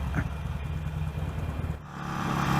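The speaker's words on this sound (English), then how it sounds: "The first thing about any Harley Davidson is its" A Harley-Davidson Iron 883 motorcycle fitted with a Screaming Eagle aftermarket exhaust, idling in Hyderabad traffic with a steady, low rumbling exhaust note that swells slightly near the end.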